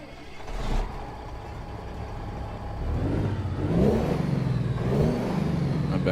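A Cummins ISX engine in a truck in American Truck Simulator revs up steadily, building to louder surges toward the end, a continuous mid-pitched drone heard alone with no talk.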